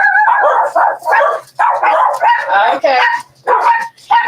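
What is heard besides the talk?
excited dogs barking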